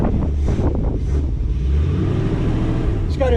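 A 1947 Ford two-door coupe engine runs with a low, steady rumble, idling under wind noise, with brief voices near the start and a short higher whine at the end.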